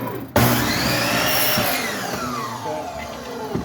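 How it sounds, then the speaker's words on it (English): Miter saw cutting reclaimed pallet wood at a 45-degree angle, starting abruptly with a loud close whine that slowly winds down over a few seconds, with no talk. "All you got to do is set your miter saw to a 45-degree angle, and you just line that up with the corner."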